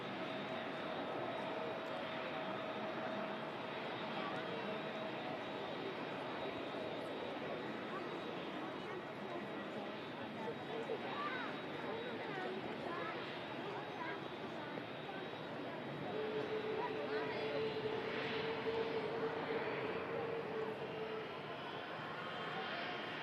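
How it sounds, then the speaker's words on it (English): An Emirates Airbus A380 taxis out toward runway 23 left for departure to Dubai. Its jet engines make a steady, distant whine and rumble under faint talk. "Emirates A380 heading out to 23 left."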